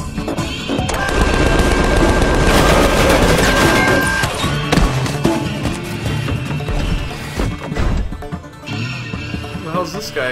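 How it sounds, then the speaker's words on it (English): A rocket launcher fires in the Tales from the Borderlands video game amid a dense, loud barrage of blasts, crashes and gunfire with game music and effects layered throughout. "It's a rocket launcher."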